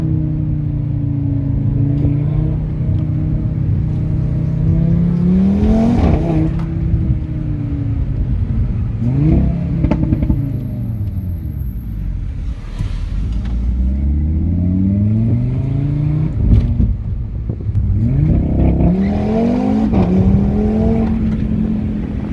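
Audi RS3 hot hatch with a turbocharged five-cylinder engine and aftermarket exhaust, revving repeatedly with rising and falling pitch sweeps, loud and close, with a rough steady drone between the revs.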